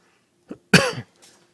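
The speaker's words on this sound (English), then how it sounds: "Excuse my coughing." One person coughs nearby: a small throat catch, then a single harsh, loud cough, followed by a faint trailing rasp, with quiet in between.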